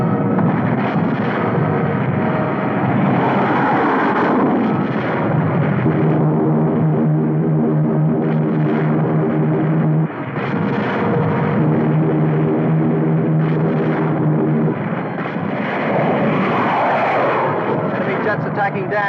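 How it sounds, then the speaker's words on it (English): Enemy jet aircraft roar in to attack a dam in a 1952 film scene, a loud continuous rushing engine noise with booming blasts beneath. Voices talk over it throughout. "Enemy jets approaching Boulder Dam."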